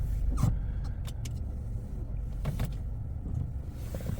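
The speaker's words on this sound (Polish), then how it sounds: "i już nam silnik nie gaśnie." A Mazda 6 GJ engine idles steadily with the i-stop system disabled, a continuous low rumble heard from close by with a few brief clicks and knocks over it.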